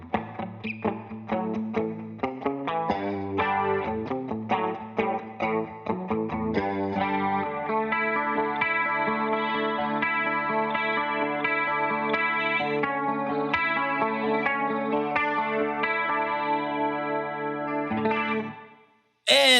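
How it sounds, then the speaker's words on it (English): Electric guitar through a Line 6 HX Stomp XL with a shimmering, wavering chorus effect, moving from punchy picked notes into long sustained ringing chords that fade out at the end. "add some chorus on there."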